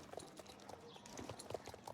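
Horse hooves clip-clop steadily in Star Stable Online on a trail ride, with the horse ridden bareback; the footfalls are quiet and rhythmic, mixed with soft game ambience.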